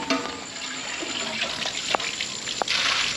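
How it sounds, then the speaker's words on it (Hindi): Water pours from a tap into a cooking pot (degchi) for boiling rice for nalli biryani. A soft, steady gush with a couple of sharp splashes plays close, with no talking. "इसके लिए पानी ले लेंगे देगचे में"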